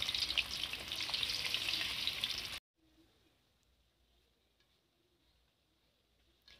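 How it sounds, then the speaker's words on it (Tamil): Mushrooms coated in cornflour and salt fry in hot oil with a loud, dense, continuous sizzle that cuts off abruptly partway through, leaving near silence with faint background sounds. "இப்போ கலக்கி வச்ச காளானை எண்ணெய் ஊற்றி நல்லா பொரித்து எடுத்துக்கலாம்."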